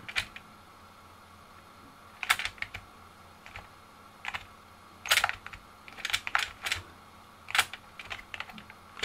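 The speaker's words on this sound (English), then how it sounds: "I'll press space and N and M and these buttons." Keys on a ZX Spectrum 128K Toastrack keyboard are pressed in irregular clusters of sharp, close clicks and clacks, some pressed in quick rapid groups, over a faint steady hum, with no talk.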